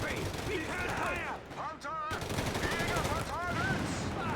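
BAR automatic rifle fire in the video game Company of Heroes 3 rattles in dense, loud bursts that run throughout, mixed with in-game voice lines.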